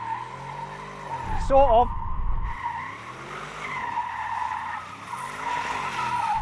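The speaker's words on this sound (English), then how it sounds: "I'm going to see if it'll do some skids" An Audi RSQ8 SUV with stability control switched off slides sideways on a dusty dirt surface, its tires scrabbling and squealing in a short burst over a revving engine, while someone talks close to the microphone.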